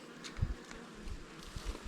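Honey bees hum around an opened hive during requeening, a faint, close, fluttering buzz with a few soft thumps and rustles and no voices.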